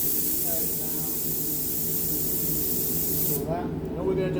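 A paint spray gun set to 1.5 on the pressure gauge hisses steadily while laying a pearl coat in a three-stage pearl finish, close and continuous, cutting off near the end as the spray stops and a voice is faintly heard.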